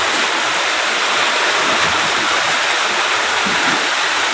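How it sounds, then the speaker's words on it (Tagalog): Loud, steady rush of typhoon floodwater pouring and churning into a house close by, a dense broadband roar like a stream spilling in, with no pauses. "ayan oh pumapasok pumapasok yung tubig"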